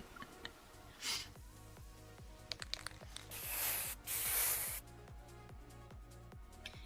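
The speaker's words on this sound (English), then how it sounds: "I lazily spray a cute little fish" A spray paint can hisses in short bursts in the game Love and Deepspace, several airy sprays of rising length over a rhythmic low musical backdrop, close and clear.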